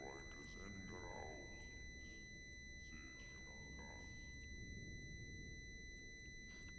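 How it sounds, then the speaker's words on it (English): Steady high-pitched tinnitus ringing effect in the horror video game Call of Cthulhu: Dark Corners of the Earth, a sustained sine-like tone running throughout over low game ambience and faint muffled sounds. "Sorry for the tinnitus there."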